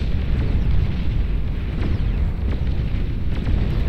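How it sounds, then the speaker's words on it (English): Nuclear missiles detonate in the strategy video game Beyond All Reason, making a dense, continuous low rumble of overlapping booms that stays loud throughout. "Firing these nukes one by one, that's so odd."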